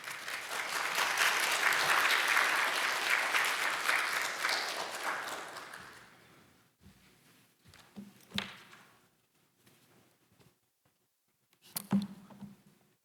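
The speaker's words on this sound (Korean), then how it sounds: "우리 박수로 맞이해 주시면 좋겠습니다" A church congregation gives a warm round of applause to welcome a preacher, loud and sustained for about six seconds before fading into scattered shuffles and a few faint taps.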